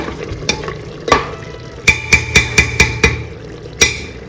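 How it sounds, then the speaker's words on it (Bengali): Mutton frying in oil is stirred with a utensil, giving sharp, evenly spaced scraping clanks in a quick run of about six strokes, then one more, over a steady close sizzle. "একটু একটু করে মাটনটাকে নাড়তে হবে"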